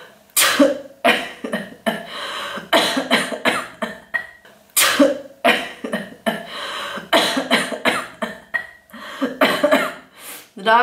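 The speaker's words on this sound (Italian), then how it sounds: "ho una tosse tremenda" A person with a bad cough coughs repeatedly in sharp, close, loud bursts, some rapid clusters and some spaced out, with throat clearing and breaths between them, in a home kitchen during the Christmas season.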